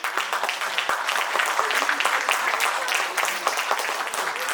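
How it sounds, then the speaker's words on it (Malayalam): An audience at a community Vishu stage event in Liverpool claps for someone invited onto the stage, a lively uneven patter of many hands, close and moderately loud throughout. "ഒരു നല്ല കയ്യടി പോരട്ടെ"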